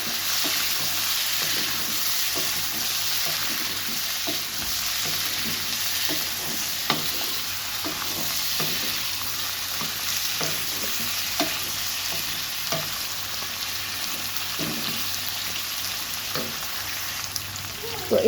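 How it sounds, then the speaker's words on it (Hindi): Chicken pieces roast in hot ghee in a pan for a desi-style chicken karahi, giving a steady, close sizzle throughout with frequent scraping and clacking spatula strokes as the meat is stirred. "तो ये जो चिकन है इसको हम इसके साथ अच्छे तरीके से रोस्ट करेंगे।"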